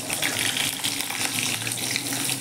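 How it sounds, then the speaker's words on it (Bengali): Potatoes and pointed gourd fry together in hot oil with a dense, steady close-up sizzle and crackle that runs unbroken, without any speech. "আলু আর পটল একলগে ভেজে নেব।"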